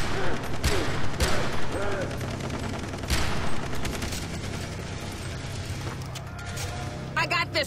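Gunfire in the shooter game Far Cry 3 during a co-op firefight, a string of sharp shots and mechanical clatter, loud and close, with players talking over it.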